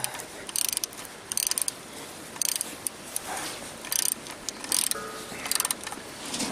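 A ratchet wrench tightens the idler pulley bolt on a 1999 Dodge Dakota with a 3.9L V-6 Magnum, with bursts of rapid close clicking separated by short pauses.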